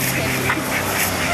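Ducks at a park with a waterfall and small river, honking and quacking steadily at moderate distance over a constant wash of outdoor noise.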